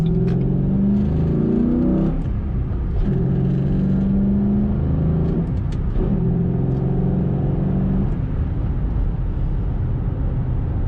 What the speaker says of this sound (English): Very nice acceleration in this Shelby GT